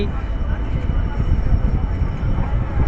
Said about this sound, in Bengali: চিলাহাটি ট্রেনটি জয়দেবপুর থেকে ঢাকার উদ্দেশ্যে ছেড়ে যাচ্ছে ধীরে ধীরে